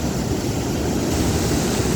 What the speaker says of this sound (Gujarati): 3 ફૂટની આજુબાજુ ઓવરફ્લો થઈ રહ્યો છે.